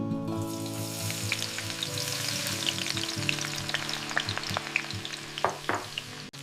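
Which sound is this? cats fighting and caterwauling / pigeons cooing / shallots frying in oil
shallots frying in oil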